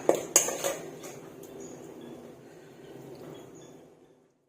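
A spoon scoops Thai shrimp salad with khajorn flowers and fresh shrimp from a dish, giving a sharp metallic clink at the start, then soft scraping and rustling that fades to silence.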